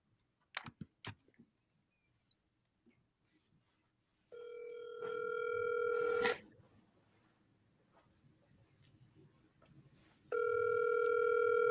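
Outgoing telephone call rings through a handset during a triple-dial sales call, with a few clicks at the start, then two long bursts of steady ringback tone separated by a quiet gap.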